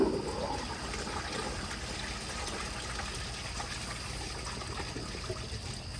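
A 1970s American Standard Baby Devoro toilet flushes, with a steady close rush of water that starts strongly and keeps running evenly to the end, and nothing else alongside it.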